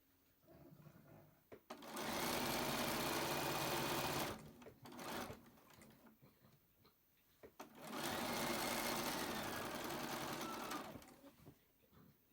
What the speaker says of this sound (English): my machine will tie a knot and cut the thread for me